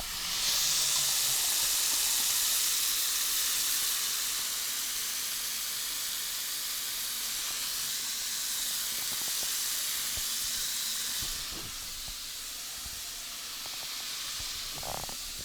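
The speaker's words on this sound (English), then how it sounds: "So we're gonna try some sound effects within the sink." Water is stirred and sloshed in a bathroom sink to make sound effects, giving a close, continuous hissing rush with gurgles and a few sharp splashes toward the end, and no talking.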